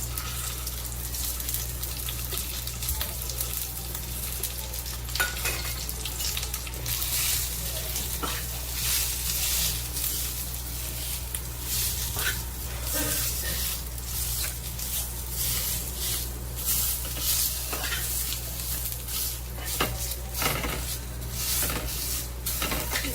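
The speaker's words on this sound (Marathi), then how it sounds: "आता कांदा असा तेलामध्ये परतून घ्यायचा." Onion being sautéed in oil makes a continuous hissing sizzle that stays at an even level, with scattered scraping and clicking from the stirring utensil against the pan.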